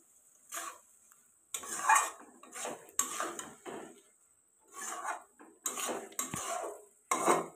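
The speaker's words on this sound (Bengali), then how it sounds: "দেখো দুধটা দেওয়ার পরে কিন্তু আমি এখানে সুন্দর করে গাজরটা মিক্সড করে নিচ্ছি।" Metal spoon scraping and clinking in a pot while stirring grated carrots with milk for gajar halwa, close and irregular, with short bursts of stirring separated by pauses.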